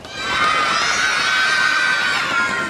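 A group of children at a playground gathering shouts and cheers together, loud and sustained, a dense high-pitched crowd of voices that swells and holds before tapering slightly.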